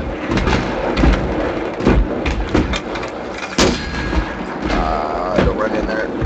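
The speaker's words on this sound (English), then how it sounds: "usually I'm not so lucky with mortars, but caught in the practice town quite well" Mortar rounds in a video game land as repeated dull thumps and booms scattered through the clip, each a short burst that fades quickly, with game noise and voices mixed in underneath.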